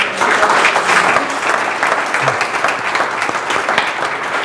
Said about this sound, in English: How about a big round of applause for our PennDOT?